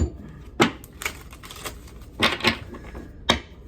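Tarot cards being shuffled and pulled, a few sharp close snaps and riffles in separate bursts with quiet pauses between them.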